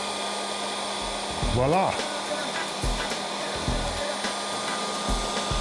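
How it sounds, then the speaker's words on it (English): A knockoff Makita 18V cordless heat gun blows with a constant, loud fan-and-heater hiss throughout, while someone speaks briefly over it. "one other application of your knockoff Makita heat gun"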